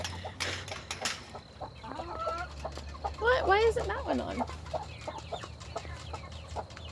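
Several chickens cluck and squawk loudly close by, with agitated calls rising in a burst midway, while someone talks over them.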